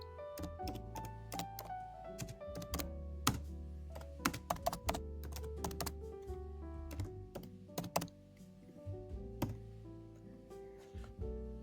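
Keys clatter on a computer keyboard as a command is typed, in steady rapid strokes with occasional heavier thunks over a low sustained background tone, close and fairly quiet.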